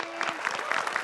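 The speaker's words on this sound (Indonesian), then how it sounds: "Boleh minta tepuk tangannya untuk Yasmin." Audience applause at an evening stage show, a short burst of dense clapping spread through the hall at steady volume, a faint voice briefly audible beneath.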